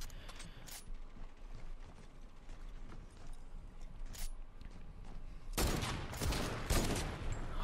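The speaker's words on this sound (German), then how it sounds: "da versucht auch zu snipen" Sniper rifle shots in a Fortnite match, sharp isolated cracks over a low, steady game background, followed by a louder, denser cluster of blasts near the end.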